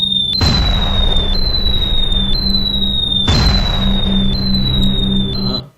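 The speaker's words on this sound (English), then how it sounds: "The sound of the bombs dropping can be heard from anywhere." Wartime bomb sound effect: falling whistles descend in pitch, each followed by a loud booming blast, repeating about five times in quick succession before cutting off abruptly.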